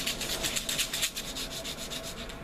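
Sandpaper rubbed back and forth over the notch of a wooden arrow shaft, a close, rhythmic rasping scrub with quick, even strokes, heard alone.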